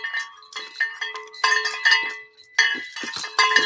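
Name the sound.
bell ringing and chains rattling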